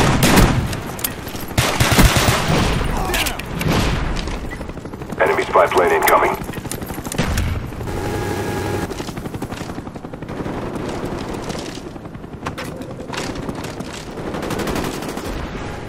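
A Cobra attack helicopter arrives during a Call of Duty: Black Ops multiplayer match. Rotor noise sits amid dense bursts of gunfire and machine-gun fire, with game voice announcements over the action.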